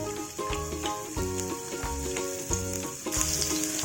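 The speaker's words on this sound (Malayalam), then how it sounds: "ഈ ഓയിലിലേക്ക് നമുക്ക് ചോപ്പ് ചെയ്ത് വെച്ചിട്ടുള്ള വെളുത്തുള്ളി ഇട്ട് കൊടുക്കാം" Chopped garlic dropped into hot oil, frying for a snack bread roll filling: a steady close sizzle with repeated rhythmic stirring or scraping strokes, growing a little louder and brighter near the end, no talking.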